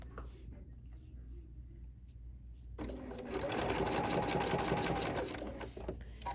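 A sewing machine fitted with an open-toe number 20 foot stitches along a white line on an ornament. After a quiet start with low room hum, a close, steady mechanical whirr starts abruptly and runs evenly to the end.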